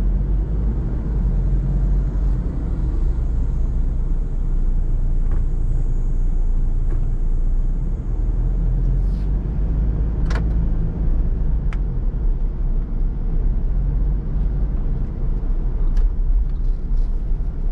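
Steady, dense road traffic on a busy Friday in Makati, Metro Manila, Philippines, a continuous low rumble of cars and motorbikes heard from inside a nearby car, with a few faint passing sounds and no talking.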